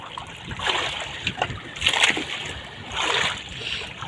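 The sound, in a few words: large sea waves splashing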